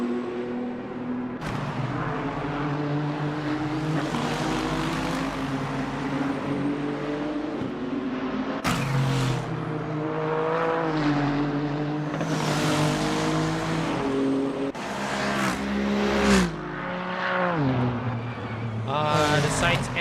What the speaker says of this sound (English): Sights and sounds of these GT3 cars currently in Okayama